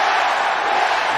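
A dense, roaring crowd at a wrestling show chants and cheers in a steady wall of sound, loud and sustained throughout.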